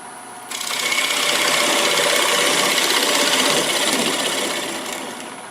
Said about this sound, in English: open up this area a little bit with a small 3/8 inch, 1/4 inch bowl gouge